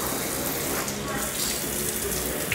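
Water streams and gushes off car glass treated with Würth Water Off, a loud continuous rushing hiss close up.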